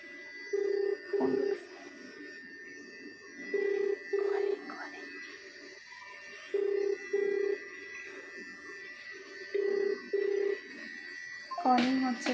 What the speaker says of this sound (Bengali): কলিং হচ্ছে, কলিং।